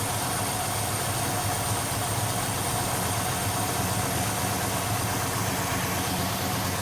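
A 1968 Dodge Charger R/T with an Edelbrock carburetor idles with a steady, even, close engine rumble that holds constant throughout, with no talking.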